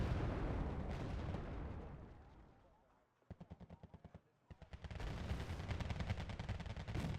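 Infantry in the Wargame: Red Dragon war game fire anti-tank weapons in a fast run of sharp shots, then a rumbling volley of blasts, with battlefield noise rising and falling around them.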